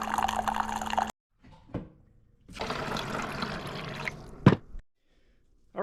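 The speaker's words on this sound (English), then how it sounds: "So now that it's pouring, we just let it go through the 6 ounce cycle." A Keurig K-Latte coffee maker pours water during its cleansing cycle in two separate bursts of running, gurgling flow, each ending abruptly and separated by quiet pauses with a brief hiss.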